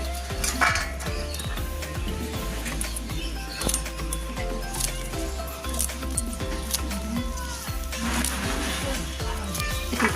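A knife cuts taro stolons (kochur loti) into pieces in a home kitchen, giving a steady run of close, sharp chopping taps and light clinks that continue for the whole stretch, with faint background sounds.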